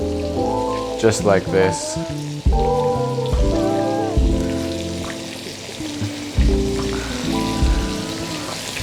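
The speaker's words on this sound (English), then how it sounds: "you literally just drop the leaves into that foaming butter" Sage leaves crackle and sizzle in hot foaming butter in a pan, a patter like light rain running throughout beneath someone talking.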